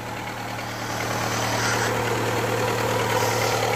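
A car engine idles steadily after its first start in four years, a close, even rumble with a low hum that grows slightly louder and carries on without talk.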